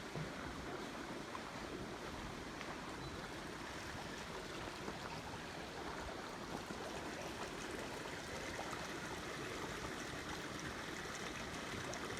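Water from a mountain stream runs steadily along a scenic hiking area, a continuous broadband rush with no pauses, some wind buffeting mixed in.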